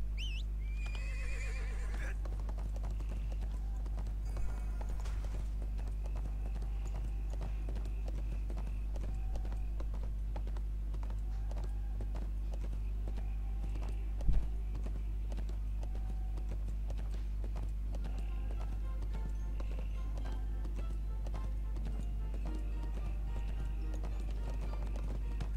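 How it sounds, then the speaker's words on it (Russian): Horse hooves clip-clop steadily in the ArcheAge online role-playing game, a continuous even trotting rhythm over a constant low game hum, with occasional faint whinnies and no clear speech. "зачем я лошадь отпустил?"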